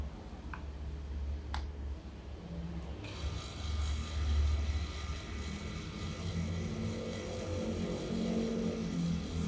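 A power drill set to speed 1 in drilling mode, running slowly at around 54 rpm, produces a steady low motorized hum that swells after a few seconds and continues without interruption.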